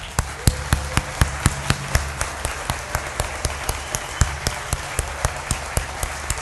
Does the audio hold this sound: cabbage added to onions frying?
no